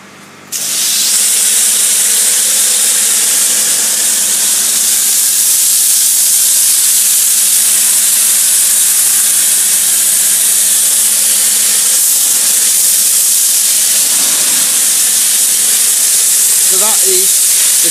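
Snow foam bursts from a PA foamer pump through a foaming head on a hand car wash setup, a loud, steady spraying hiss that starts abruptly and runs unbroken over a low motor hum.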